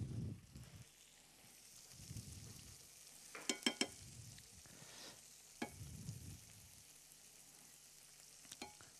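Chopped shallots and minced garlic sizzling faintly in a pan at a cooking demonstration, a soft steady hiss broken by scraping stirs and a few sharp clinks of a utensil against the pan.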